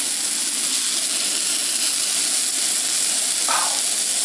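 A steak sizzles steadily on a remote outdoor van-life cookout, a constant broadband hiss holding at the same level throughout with no talk over it.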